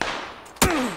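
A single loud, close gunshot in the Xbox version of PUBG bursts out after near-silence, its sharp crack trailing into a falling ring, with no talk over it.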